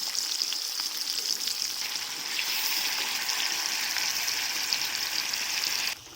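Steady hissing sizzle from a hot wok as liquid hits the oil, continuous and close, cutting off abruptly near the end.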